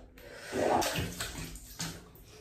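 Water splashes and trickles faintly in a bathroom as a face is rinsed before a shave with a Voskhod razor blade, with soft intermittent sloshes.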